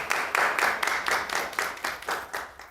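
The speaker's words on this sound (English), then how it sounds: "Let's give her a round of applause." An audience applauds a guest at a community shop talk with steady, rhythmic clapping from a modest crowd, close and clear, lasting a few seconds before trailing off.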